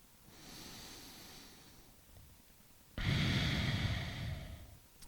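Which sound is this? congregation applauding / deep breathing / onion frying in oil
deep breathing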